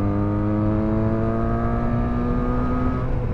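A Benelli BN302 motorcycle engine pulls smoothly under acceleration, steady rising harmonic drone held close and loud throughout, with no gaps or voices.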